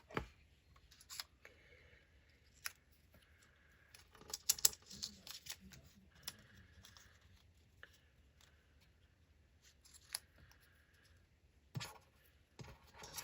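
Scissors snipping paper while making miniature books for a craft project, heard as a few sparse, close, crisp cuts separated by quiet pauses.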